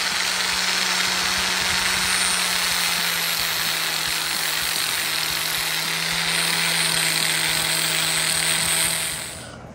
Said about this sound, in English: it's time to grind again, guys. Time to make some noise. Get the grinder on